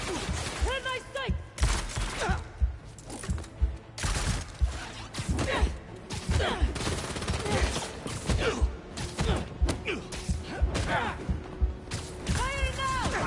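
Gunfire from the Spider-Man 2 video game: repeated bursts of shots and clattering mechanical noise run throughout amid a busy game soundscape, with voices shouting over the action.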